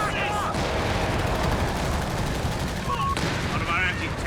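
Sustained machine-gun fire and scattered explosions fill a Company of Heroes 3 2v2 battle, a loud, continuous rattle of battlefield gunfire.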